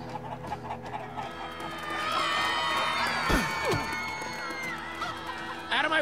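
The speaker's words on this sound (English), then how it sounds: "Chickens!" Chickens cluck and squawk in the video game Minecraft: Story Mode, a busy flurry of bird calls under a loud, bustling crowd with shouting voices.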